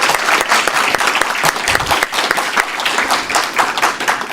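A forum audience applauds the sanitation district candidates with loud, close, continuous clapping that fills the whole short stretch.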